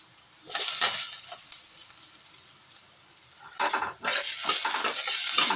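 Drumstick pieces being stirred and sautéed in a pan for a fry, with a spoon scraping and a soft sizzle in two bursts separated by a quieter simmering pause.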